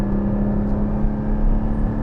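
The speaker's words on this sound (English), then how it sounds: "So I have a very gentle application with the throttle, and it responds" A 2021 Porsche 718 Spyder with a 4-litre engine and PDK responds to a gentle throttle application, giving a steady, close engine drone with a strong low hum that holds level throughout, with no voices.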